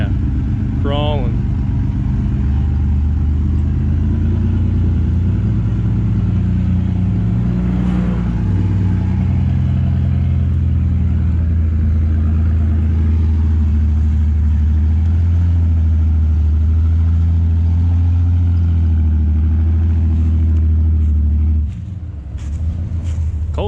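A truck engine labours as it crawls up a steep, wet hill, a loud, close, low rumbling drone that holds steady for a long stretch before suddenly dropping away, with a voice talking briefly over it.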